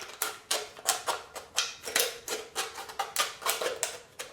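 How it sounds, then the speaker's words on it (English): Tin snips or a can cutter work around the bottom of a tin can, making a quick run of sharp, rhythmic metallic clicks and snips at close range. "we're just going to take and cut the bottom off"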